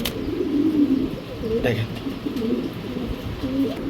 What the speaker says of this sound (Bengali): সাইজ অনেক বড় সাইজের একটা মাদি কবুতর গোল্লা